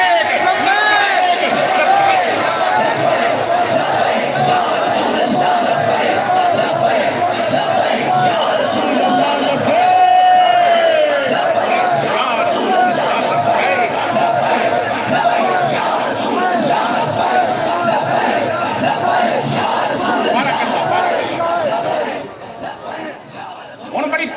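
Large crowd at a religious gathering loudly chanting the slogan Labbaik together, a sustained roaring mass of voices with overlapping shouts that holds strong throughout before thinning at the very end.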